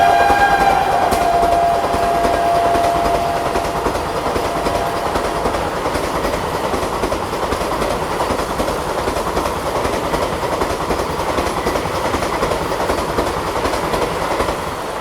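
The Varanasi–New Delhi Vande Bharat Express runs by Govindpuri railway station in a loud, steady rush of wheels and rail clatter. A brief horn-like tone sounds at the start, and the roar holds for the full length.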